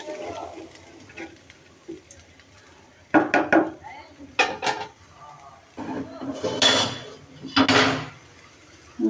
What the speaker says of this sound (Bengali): ঢাকনি দিয়ে দিলাম